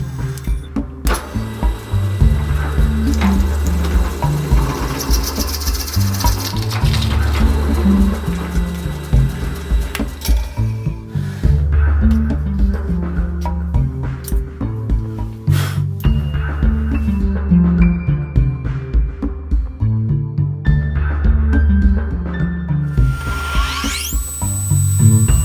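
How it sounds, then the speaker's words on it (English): A power drill whines and grinds loudly and continuously, boring a big hole in wood for a workbench leg vise, with shifting pitch and rough chattering, with brief pauses in the motor. "this big hole that I'm drilling right now"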